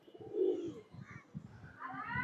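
A male pigeon in a Bangladeshi loft gives low, close coos in a few short bursts, with quieter rustling between them.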